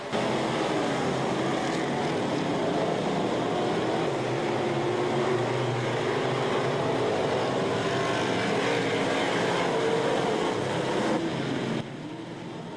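Stock cars racing on a short local oval, a dense continuous roar of several engines at full throttle that stays loud and steady before easing off at the very end.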